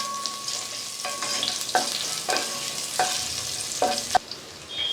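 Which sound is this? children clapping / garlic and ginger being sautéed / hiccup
garlic and ginger being sautéed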